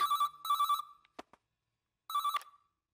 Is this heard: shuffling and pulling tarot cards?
no